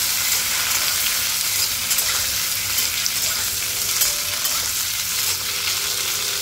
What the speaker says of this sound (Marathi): बटाटे छान आपल्याला तेलावर परतून घ्यायचे आहे।